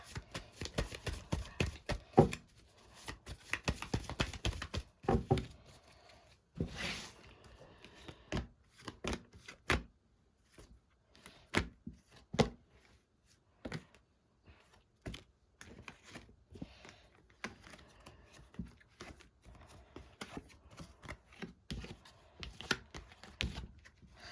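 Tarot cards are shuffled close by in a quiet room, a soft, irregular flutter of card-on-card slaps and riffles, busiest early and thinning into sparse taps.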